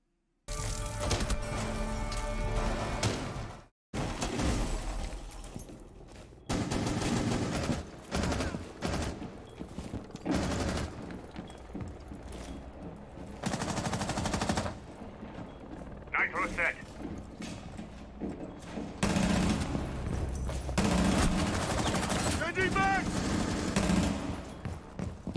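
Gunfire in a first-person shooter video game, with loud automatic bursts and rattling fire that come and go over about twenty-five seconds, mixed with in-game mechanical clicks and reload sounds.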